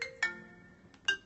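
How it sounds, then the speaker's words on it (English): An incoming phone call rings out in short bright bursts, two or three chimes a fraction of a second apart, moderately loud indoors with no talking. "Sorry, getting a phone call."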